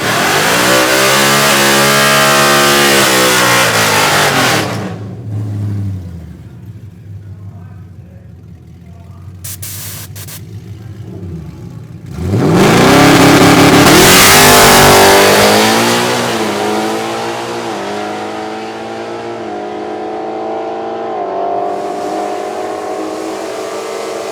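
A Modular Muscle drag racing car making a pass at the NMRA World Finals roars loud and close as its engine revs and climbs through gears, drops away briefly, then surges again in a long sustained blast.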